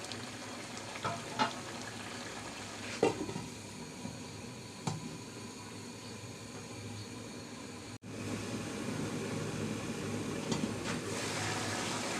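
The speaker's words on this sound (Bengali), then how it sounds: "মাঝখানে একটু নাড়াচাড়া করে দিলাম" Sea roisha fish fry in a pan with a steady close sizzle while a utensil stirs them, giving a few soft scraping taps over the continuous frying hiss.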